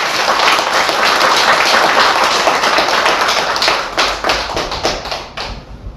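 Church congregation applauding together at an anniversary worship service, a dense, steady wash of many hands clapping that thins into scattered claps near the end.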